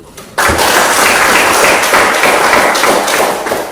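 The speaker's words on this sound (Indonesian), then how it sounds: "Ya, tepuk tangan dulu." Loud, close applause from a classroom of students bursts in suddenly after a brief quiet moment, then continues as dense, busy clapping that tapers slightly toward the end.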